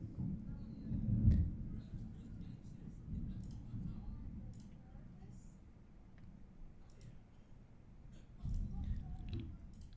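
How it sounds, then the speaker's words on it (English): Deep rolling thunder from a huge thunderstorm outside in Houston, a low rumble that swells near the start, fades through the middle and surges again at the end. "There's a huge thunderstorm once again outside."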